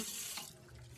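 Tap water running steadily into a sink in a cartoon, a continuous close splashing stream with no voices over it.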